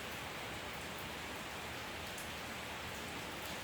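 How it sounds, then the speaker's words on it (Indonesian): Rain falling outside, a soft, steady, even hiss heard faintly throughout with no break. "Iya, hujan, I'm sorry. Kedengeran ya?"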